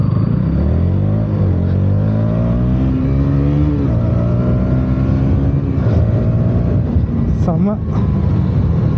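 KTM Duke 200 motorcycle ridden on the road, its single-cylinder engine droning loud and close with rising and falling pitch through gear changes, under heavy wind rumble and brief speech.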